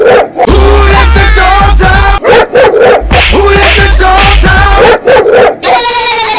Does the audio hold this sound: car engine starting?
no